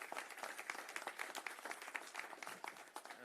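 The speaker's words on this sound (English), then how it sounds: "Can we get another round of applause for Chief Benner?" Applause for Houston's new police chief at a mayoral news conference: a small crowd clapping in a quick, even patter, fairly faint and distant, with no voices over it.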